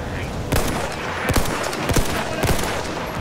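Loud, close gunfire in the Battlefield 1 video game, several sharp shots in an uneven burst over a constant rumble of battle noise.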